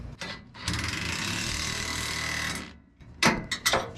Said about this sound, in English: Now I'll use a wrench, hold the nut up top,